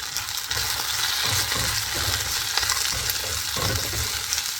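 Coriander stalks frying in hot oil for masala rice, a steady close sizzle with continuous stirring and scraping in the pan, no voices.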